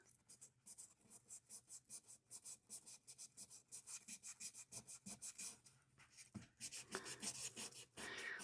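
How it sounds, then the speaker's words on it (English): Steady rhythmic rasping of sandpaper rubbed back and forth on a pipe, close up, with repeated strokes and brief pauses. "we'll break out the sandpaper"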